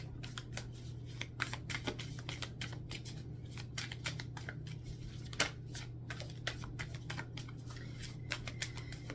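Tarot cards being shuffled and drawn by hand: a steady run of quick, close, dry riffling and flicking sounds over a constant low hum, with no talking.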